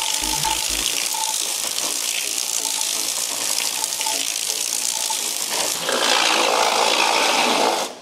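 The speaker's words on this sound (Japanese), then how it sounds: "いきなりもうサイクロンジェットで洗ってみます" A loud, steady rush of high-pressure water from a cyclone jet nozzle spraying against a car wheel, a constant drill-like hissing jet that swells slightly louder near the end before cutting off.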